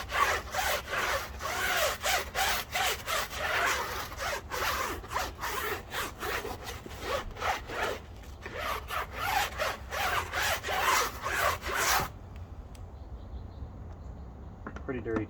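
A wheel brush scrubs a dirty tire coated with aerosol wheel and tire cleaner, making rapid, repeated rasping strokes in quick bursts for about twelve seconds before stopping, close and fairly loud, with some talking mixed in.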